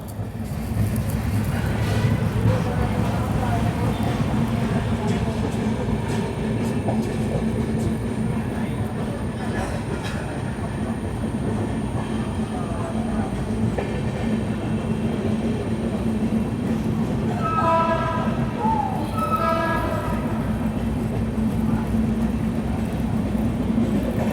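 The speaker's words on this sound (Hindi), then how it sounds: "2 मिनट के शेड्यूल हॉल्ट के बाद हमारी ट्रेन निकलती है बागबाहरा से" The 22847 Visakhapatnam–Mumbai LTT superfast express pulling out of Bagbahara station, a steady rumbling roll of wheels and carriages, with a brief tonal horn-like sound near the end.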